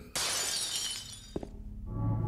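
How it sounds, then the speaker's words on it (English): Glass shatters loudly in the Silent Hill 2 video game, a sharp crash followed by a bright tinkling spray of shards, a couple of clinks, then a low ambient drone alone. "There's only so many glass things that can break so many times."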